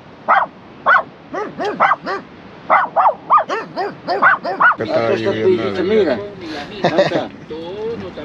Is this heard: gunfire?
no